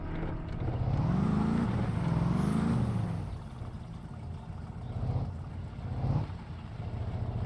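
A rally car in My Summer Car passes along a road, its engine rising to a loud, climbing whine and then fading, with smaller swells of engine noise afterward.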